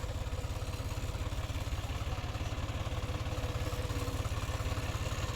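On a farm during a groundnut harvest, a tractor engine runs close and steady, its rapid low thumping beat holding constant throughout with no voices.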